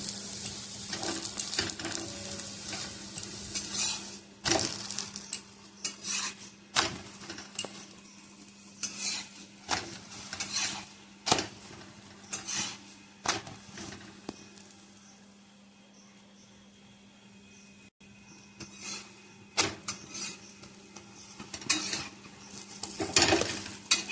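Roti frying in oil in a pan, a soft sizzle running under frequent scraping and tapping of a utensil against the pan, with a quieter stretch midway.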